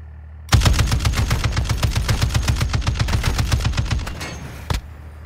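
A long, rapid burst of automatic gunfire in a video game firefight, in a desert oilfield setting, sounds close and loud for several seconds and is followed by one last isolated shot.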